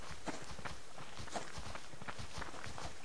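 Running footsteps in the survival game Subsistence thud in a quick, steady rhythm of soft, fairly faint impacts that continues for a few seconds with no talk over it.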